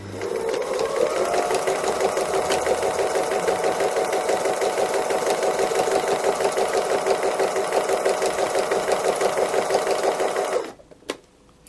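A sewing machine stitching free motion embroidery on a fabric cow design whirs in a steady, fast mechanical rhythm for about ten seconds, close and even, then stops abruptly with a couple of faint clicks.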